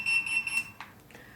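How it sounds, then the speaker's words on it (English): A Retekess T112 wireless restaurant pager gives a short burst of high electronic beeps, close and fairly quiet, followed by a couple of faint handling clicks. "it has the beep sound again"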